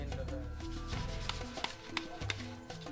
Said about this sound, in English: Workers crack open the bottom of the pot to reveal the salt.